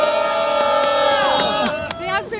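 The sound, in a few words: crowd applauding and cheering for students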